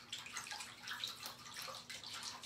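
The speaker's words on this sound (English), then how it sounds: "I'm going to wash this off." Running water rinses chalk paste off a board, a continuous splashing wash with fluctuating gushes, close and steady with no talk.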